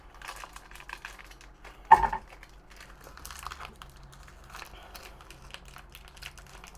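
Tightly sealed plastic packaging around a cured beef MRE ration is torn open with one sharp ripping burst, surrounded by quieter crinkling and rustling of the wrapper.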